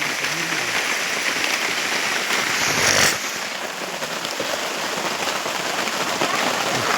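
Heavy rain pours down on an outdoor land and housing protest at Peggoli in a steady, dense roar that fills the whole clip, with a brief louder surge partway through.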